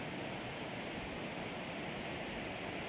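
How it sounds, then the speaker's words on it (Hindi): Steady, dense rush of falling water from Khandadhar waterfall in Sundargarh district, filling the whole clip as a continuous broadband roar with no voices. "खंडाधार वाटरफॉल"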